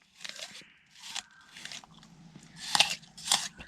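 Teeth bite crisply into a Pink Lady apple several times in a row, each bite a sharp, close, crunchy snap followed by softer chewing crackle, with no talking.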